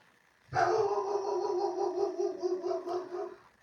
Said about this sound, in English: My doorbell just rang, so my dog's going to be barking